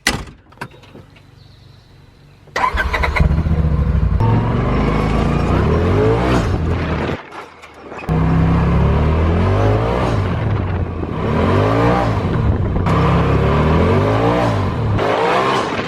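After a quiet start and a door thud, a Polaris RZR Pro XP side-by-side engine roars to life and revs up and down continuously while driving, close and rumbling.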